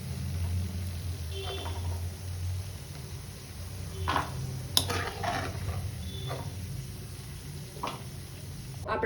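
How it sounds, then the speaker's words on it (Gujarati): Cashews and gathiya fry in a pan until brown, giving a low steady sizzle broken by scattered scraping stirs and a few sharp clinks of utensil on metal. "જો આ રીતના બ્રાઉન થવા આવે ત્યાં સુધી આપણે ફ્રાય કરી લઈશું."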